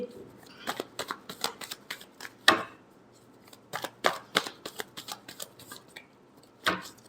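Tarot cards are riffled and shuffled in a series of sharp, crisp bursts, some rapid and clustered, others separated by short pauses, heard close up with faint talk between them.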